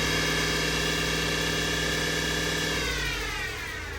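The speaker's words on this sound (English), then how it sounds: "the Tahoe has just recently developed a really bad drivetrain whine" A Chevrolet Tahoe with a bad drivetrain whine hums steadily and loudly, a sustained tonal whine over engine rumble that shifts pitch slightly and eases off toward the end; no talking.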